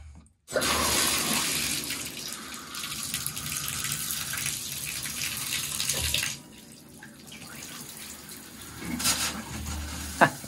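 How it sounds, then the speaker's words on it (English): Water gushing from a bathtub faucet with a leaking shower diverter, a loud steady rush that cuts to a thinner trickle partway through, ending with a small knock; no talking. "You can see that there's just a little bit of water coming out"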